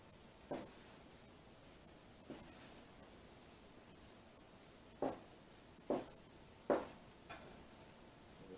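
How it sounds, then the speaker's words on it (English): A knife slicing skinned salmon fillet into one-inch cubes on a cutting board, heard as sparse, faint separate chops and taps spaced a second or so apart in a quiet kitchen. "we're going to cut these up into 1-inch cubes"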